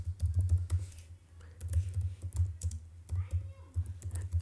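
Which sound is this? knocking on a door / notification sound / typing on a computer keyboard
typing on a computer keyboard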